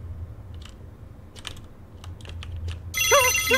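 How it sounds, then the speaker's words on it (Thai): In the horror video game The Bridge Curse Road to Salvation, a phone starts ringing near the end with a loud, warbling electronic ringtone. Soft scattered clicks and low background hum come before it. "โทรศัพท์ดังครับ"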